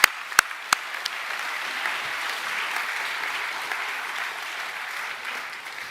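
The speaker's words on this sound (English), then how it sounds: "So can we give them another round of applause, please?" Audience applause fills an awards evening hall, a few sharp claps at the start and then steady, dense clapping that carries on at an even level for several seconds.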